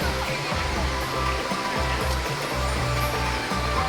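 Steady, dense rushing of a waterfall at Alton Towers theme park, a constant broadband roar with no breaks, close and fairly loud, with faint background murmur beneath.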